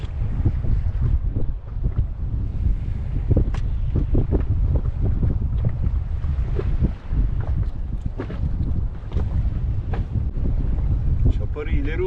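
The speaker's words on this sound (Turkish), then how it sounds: "Çok rüzgar hızlı götürüyor beni" Strong wind buffets the microphone in a constant low roar, with water sloshing against a small inflatable boat at sea and a voice speaking beneath it.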